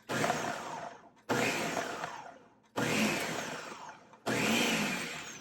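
Blender pulsing a raw walnut mixture in four separate bursts, each starting abruptly at full power and winding down, with brief silent gaps between them, loud and close.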